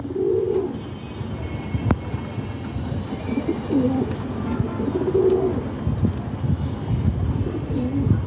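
A caged pigeon coos repeatedly in low, rolling phrases, fairly close, over steady background noise with a sharp knock near the start.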